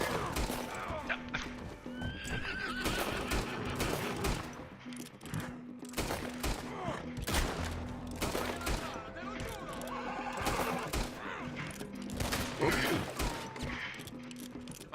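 A horse in a video game gunfight whinnies loudly, with clip-clopping hooves amid dense bursts of gunfire while a voice talks underneath.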